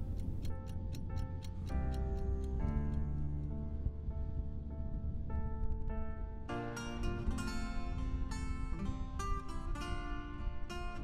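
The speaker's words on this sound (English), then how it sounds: "today, I want to find a way to stop being a slave to the ticking clock." A clock ticks in a steady, even rhythm throughout, sitting alongside a continuous layer of tonal background music that grows fuller partway through.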